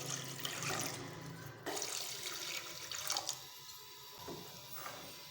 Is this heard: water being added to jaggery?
yes